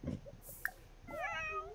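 A cat in The Sims 4 game gives a short, drawn-out meow near the end, soft and clear over a quiet background with brief faint game sounds before it.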